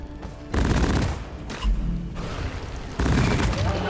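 Lok-1 smart rifle in Deep Rock Galactic fires three loud, close bursts of rapid gunfire, separated by short pauses, each burst a dense rattling volley.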